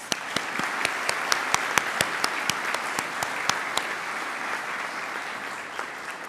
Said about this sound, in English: audience please take a moment to applaud and celebrate our graduates